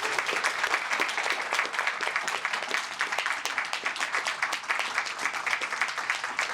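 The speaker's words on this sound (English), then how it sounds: "I would like to have you all applaud Mayor Ralph as she comes and gives the state of the city." A luncheon crowd at a chamber of commerce state-of-the-city event applauds steadily, dense overlapping claps at an even level from start to finish, with no talking.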